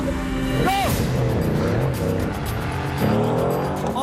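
A Mercedes-AMG GT R launches on a race circuit, its engine loud and close, revving up through rising, whining pitch sweeps as it accelerates hard, with brief tire noise, and a voice heard faintly under the roar.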